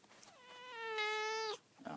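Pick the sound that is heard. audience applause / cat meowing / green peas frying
cat meowing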